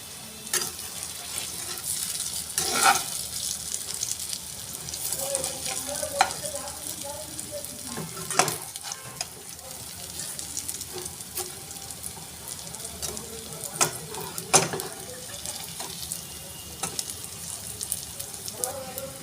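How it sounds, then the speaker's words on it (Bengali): Coconut fritters fry in a pan with a steady sizzle, while scattered scrapes and clinks come from turning them. A faint voice is heard in places. "আমি এইভাবে বড়ার আকারে ভেজে নেব।"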